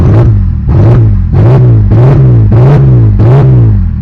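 A Ford Ranger's 2.9L V6 engine revs repeatedly in quick rhythmic pulses, about seven surges, with part of the exhaust removed giving a harsh, unmuffled roar close by.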